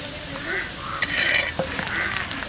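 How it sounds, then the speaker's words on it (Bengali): Cumin, dry red chillies and ginger sizzle steadily in hot oil in a home kitchen pan, a continuous close hiss with a few stirring scrapes and clinks, no voices. "এর মধ্যে আছে জিরে, শুকনো লঙ্কা আর আদা দিয়ে দিচ্ছি।"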